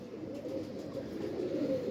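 A pigeon coos in low, throaty, repeated murmurs close by, the soft rolling calls continuing steadily with no talk.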